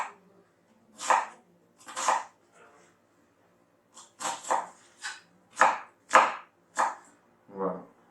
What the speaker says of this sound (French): on prend l'oignon. On le coupe en petits morceaux. En petits cubes